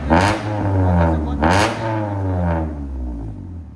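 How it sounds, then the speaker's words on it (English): A 1999 Honda Civic with aftermarket headers and a resonator revs loudly up close, two sharp throttle blips climbing in pitch and falling back before the engine settles to a steady idle. "Rev it up. High."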